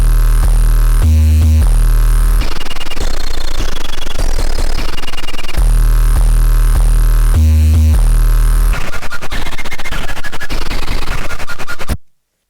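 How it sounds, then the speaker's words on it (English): Heavily distorted 808 bass pattern for a chorus, made in FL Studio: booming, saturated low notes in a repeating rhythmic phrase, loud and gritty with harsh buzzing overtones, then an abrupt stop. "Now the next 808 we have here plays during the chorus and sounds like this."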